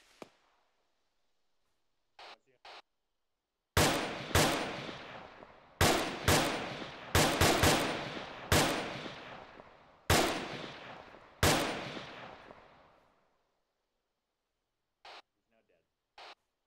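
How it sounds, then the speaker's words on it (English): Gunshots fire close by, a series of sharp loud cracks spaced one to two seconds apart, each trailing off with a ringing decay, with a few quieter clicks before and after. "I heard a dude shooting like real close to me"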